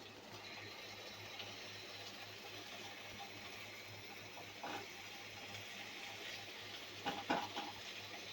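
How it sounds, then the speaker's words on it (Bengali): Okra and potato pieces fry together in a pan for a Bengali-style curry, giving a faint, steady sizzle. Occasional soft stirring scrapes and clinks come through, especially toward the end. "আলুর সঙ্গে ঢেঁড়সগুলো ভালোভাবে মিশিয়ে নেব।"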